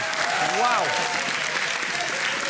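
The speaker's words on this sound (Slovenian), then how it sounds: "Zdaj ima en aplavz za obe ekipi." Applause for two primary school teams at a Slovenian school competition show rolls on steadily while a voice speaks over the clapping.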